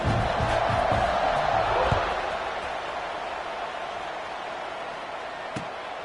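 A football stadium crowd roars before kickoff, a broad, sustained wash of cheering that is loudest at first and then settles into a steady distant rumble, with a faint thump near the end.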